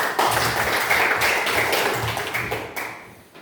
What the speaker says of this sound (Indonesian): Terus semua tepuk tangan.